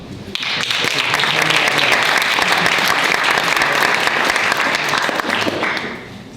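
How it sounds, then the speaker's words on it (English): An audience at a sales role-play event breaks into loud, dense, sustained applause that carries on steadily for several seconds before tapering off at the end. "please prepare with a big applause."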